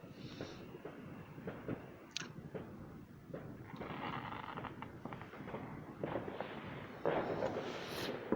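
Distant Bonfire Night fireworks over Coventry on November 5th make faint, scattered pops and muffled booms across the night, growing a little denser toward the end, with a voice talking quietly at times.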